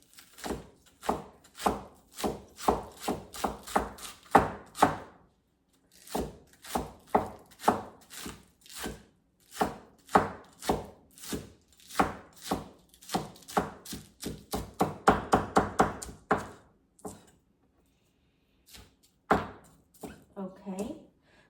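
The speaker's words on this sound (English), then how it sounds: "I'm going to chop those green onions" Green onions chopped with a knife on a cutting board, rapid rhythmic thunks in bursts with brief pauses between them, close and clear.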